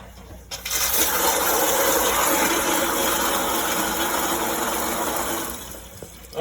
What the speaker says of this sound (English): So it's filling the tank back up.